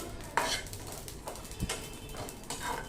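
Coriander and cumin seeds roast in a pan for buttermilk masala, with close metallic clinks and scrapes of a spoon stirring against the pan at an irregular pace over a faint background and no talking.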